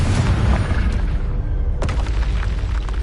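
Booming Confringo spell explosions in Hogwarts Legacy during combat. A heavy blast opens the clip, a second sharp burst comes near the midpoint, and rumbling debris carries on between and after them.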